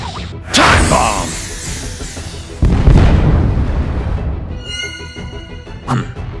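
Animated time bomb blast: a sharp loud burst opens, a second heavy boom follows midway with a long rumbling tail, then scattered bright crackles and a final pop, with no talk.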